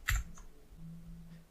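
Faint clicks from an Alfawise V1 RGB mechanical keyboard with blue switches: one sharp keypress up front, then a couple of softer taps over a low hum.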